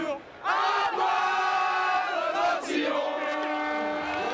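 A crowd at a butchery competition cheers in a football-style atmosphere before the French butchery team enters, with loud sustained chant-like or horn-like tones that swell and break over a continuous roar.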